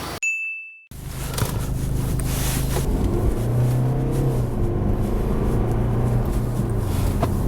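A BMW 320d diesel, revived after a repair, heads out on a test drive: a brief chime sounds, then steady engine and road noise fill the cabin as the car pulls along, rising slightly under acceleration.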